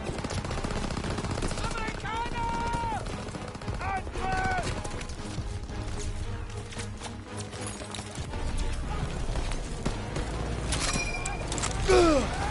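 M1 Garand rifle fire in the Call of Duty: WWII game, with dense, continuous gunfire and battle noise under scattered metallic pings, sustained and loud throughout.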